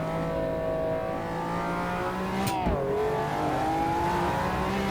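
McLaren F1 LM racing car in Automobilista 2, engine droning steadily with rising and falling revs, a quick gear change midway, then pulling up again, loud and continuous with no talk.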